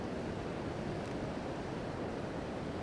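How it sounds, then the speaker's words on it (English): Ocean waves roll onto a beach at White Rocks at dawn, a steady, close, broadband wash of surf with light wind noise throughout and no voices. "there's some nice waves just coming in there"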